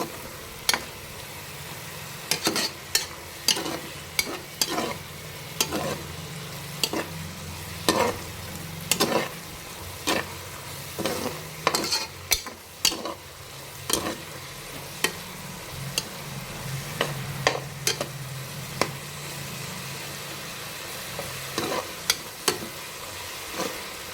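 Kashi halwa of grated ash gourd cooking in ghee is stirred in a pan, with a steady soft sizzle under repeated sharp scrapes and clicks of the spoon against the pan, close and moderately loud, no talking.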